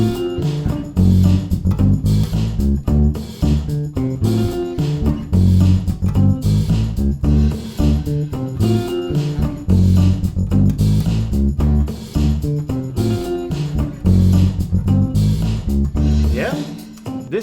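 A funky 1967 bass line plays as a syncopated, repeating riff in a full band mix with drums and horns, loud and steady throughout.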